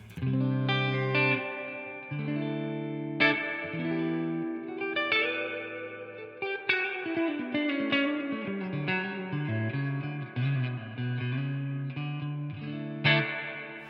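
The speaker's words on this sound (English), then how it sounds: "It's quite a pretty reverb, and there's quite a lot of reverb." Electric guitar chords and picked notes through an AmpliTube Mesa Boogie Mark IIC+ amp simulation, drenched in heavy reverb, each strum washing out into a long shimmering tail.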